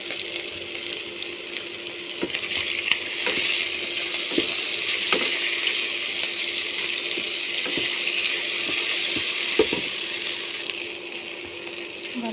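Potato and green chili frying in a pan give a steady, close hiss with occasional soft pops and stirring clicks, with no talking over it.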